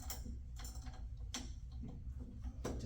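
Spring washers and bolts are tightened by hand on a slide assembly, giving soft, close, ratchet-like clicks and metallic ticks in an irregular rhythm over a muffled background.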